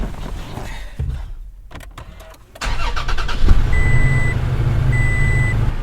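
A vehicle engine starting for off-grid charging in the desert, with a brief crank followed by a steady, loud running rumble, and two repeated electronic beeps sounding over the idle.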